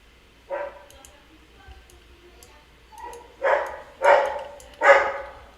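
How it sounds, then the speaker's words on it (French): A dog barks several times, a lone bark followed by a tight cluster of three louder barks, fairly close, with faint whimpering between. "Ah, le chien qui waf waf."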